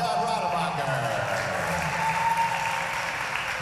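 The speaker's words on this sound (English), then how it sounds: "Big round of applause, John Rademacher." Applause breaks out at a spring festival stage event, steady and full, with a voice talking over the clapping throughout.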